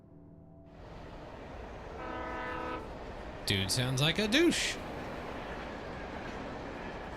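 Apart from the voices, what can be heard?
train in video game Alan Wake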